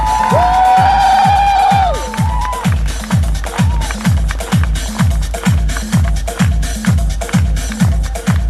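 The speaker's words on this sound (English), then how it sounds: "Let's have a loud round of applause." A crowd cheers and whoops for a senior vice president at a corporate annual day event in Hyderabad, then settles into loud, steady rhythmic clapping or stomping that keeps an even beat to the end.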